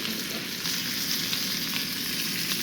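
Cheap rump steak fries in a pan with a loud, steady, close sizzle that holds unbroken throughout, with no talking.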